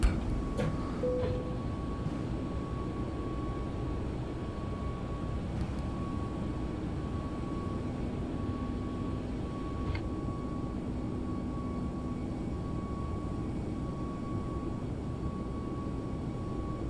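Boeing 737-800 (Zibo mod) taking off in a flight simulator, a steady broad engine roar with a constant tone, holding level and unbroken with no talk.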